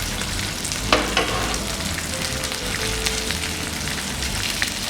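Fish fries in a pan as a dense steady sizzle, close and loud, with a couple of sharp clicks near the start and faint spatter crackles, no talking.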